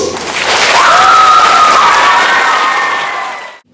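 Applause from an audience at a children's winter concert fills the hall after a dance school performance, a dense steady clapping with scattered voices and a brief whistle-like cheer that swells, holds, then fades out near the end.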